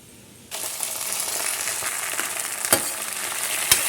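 Onions fry in a pan for saag, a sudden onset of bright, even sizzling that crackles steadily, with a couple of sharp metallic clinks from stirring and no voices.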